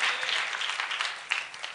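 A church congregation claps together in steady, dense applause that fills the room at full volume through the whole moment, with no single voice standing out.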